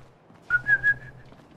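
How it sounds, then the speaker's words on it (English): A person whistles a short sliding call, like summoning a dog, with three quick rising-and-falling pulses and a held tail, close and clear, alone over quiet Fallout 4 game background. "Wish I could whistle in game"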